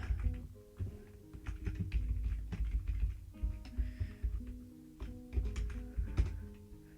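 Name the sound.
typing on a computer keyboard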